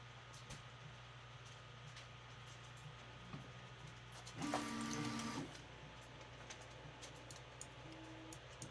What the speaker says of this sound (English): Touches the nozzle and then does a nozzle scrub. And then touches it again